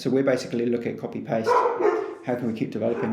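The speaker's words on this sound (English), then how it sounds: "sorry about the puppy dog" A small puppy dog barks and yips in short bursts, close and fairly loud, mixed in with an ongoing conversation between people talking indoors.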